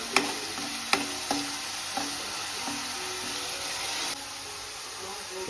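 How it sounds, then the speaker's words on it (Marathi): Green masala paste of coconut, ginger, garlic, chilli, coriander and curry leaves fries in oil for a small crab curry, a steady close sizzle punctuated by several sharp spoon knocks and scraping stirs against the pan. "आपला वाटण मस्त तेलामध्ये फ्राय झाले"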